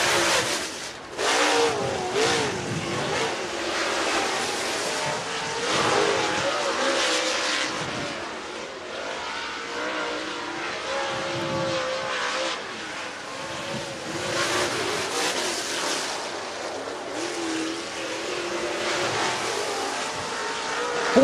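Race cars circling Talladega Short Track on qualifying laps, a continuous loud engine roar with passing swells, no talk.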